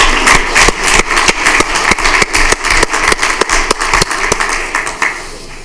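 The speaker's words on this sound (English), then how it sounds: "One more round of applause for that group, please." Audience clapping at a school board of education meeting, a round of applause for a student group, with sharp, fairly regular claps spread across the whole stretch over a steady low background hum.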